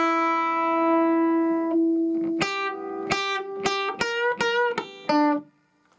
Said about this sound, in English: you're going to hear an open first string